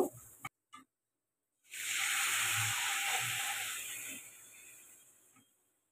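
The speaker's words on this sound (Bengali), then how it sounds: "জল দিয়ে মশলাটাকে খুব ভালো করে কষিয়ে নেব।" Spice paste of ground coriander, chili and turmeric loosened with a little water for egg curry, hitting a hot pan with a sudden loud sizzle after a few faint clicks, hissing steadily for a few seconds and then fading out.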